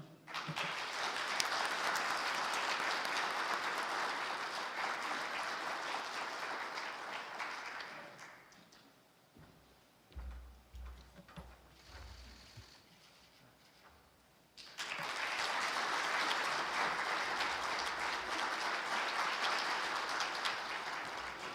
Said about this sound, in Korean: 여러분 환영과 격려의 박수 부탁드립니다.